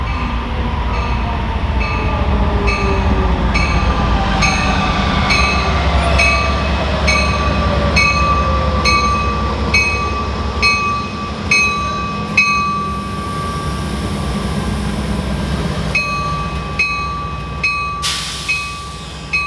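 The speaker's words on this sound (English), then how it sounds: "Amtrak train number 3, the westbound Southwest Chief, rolling into its La Plata stop." Amtrak's westbound Southwest Chief passenger train, led by P42DC locomotives, rolls into a small-town Missouri stop with a loud, close, steady rumble, rhythmic wheel clatter over rail joints and a sustained squealing tone as it slows.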